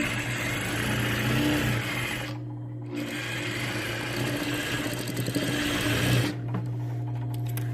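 A sewing machine runs steadily and close while stitching cotton strips for a Diamond Jubilee Bargello quilt, with two brief pauses where the hum drops away before the stitching resumes.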